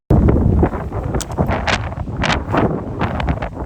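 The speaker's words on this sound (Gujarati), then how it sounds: "તમારે પવનનો અવાજ સાંભળો ને જોજો આગળ જોજો" Strong wind buffets the microphone on a hilltop at Abhapara, a loud, continuous roaring gust with fluctuating surges and no voices.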